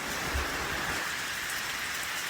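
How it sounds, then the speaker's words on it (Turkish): Steady rain falls on a highland pasture in cold weather, a continuous even hiss of drops close by with no voices. "Yağmur yağıyor yaylamızda."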